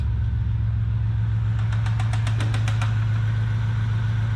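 A 1990 Maserati TC engine idles with a steady low hum, joined midway by a short run of rapid metallic ticks.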